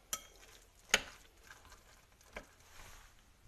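Chopped vegetables are stirred and tossed in a pan, with a faint sizzle beneath and a few sharp utensil clicks against the metal, close and fairly quiet, with no voices.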